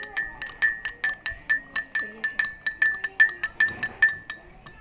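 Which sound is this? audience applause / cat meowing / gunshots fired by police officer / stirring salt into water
stirring salt into water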